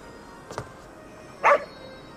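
A dog in the Ghostwire: Tokyo video game gives two short barks, a faint yip followed a second later by a louder, clearer bark, against a quiet background.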